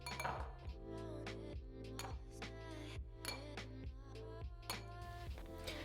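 A spoon clinks repeatedly against a glass as strained yogurt is spooned in, giving a steady series of bright, ringing taps up close in a quiet kitchen.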